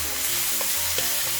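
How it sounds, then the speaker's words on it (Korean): Bulgogi and sesame oil being stir-fried in a pan for bulgogi hotdogs, a steady close sizzle broken by a couple of soft scrapes and clicks of stirring, with no voices. "참기름을 조금 넣고 볶아주세요."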